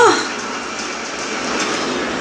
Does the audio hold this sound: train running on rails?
yes